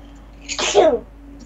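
A single sharp human sneeze indoors during a game session, a quick in-breath snapping into a loud burst that fades within a second, over faint room hum.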